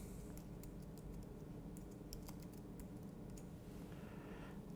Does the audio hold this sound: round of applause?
no